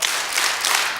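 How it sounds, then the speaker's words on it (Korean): A seated church class claps together on cue during a Bible lecture, a brief, bright burst of group clapping lasting about a second, close and loud. "자, 박수 3번 시작"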